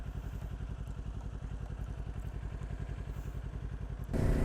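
A Kawasaki Ninja 400 motorcycle engine runs close by with a steady, rapid pulsing rumble, then swells suddenly louder near the end.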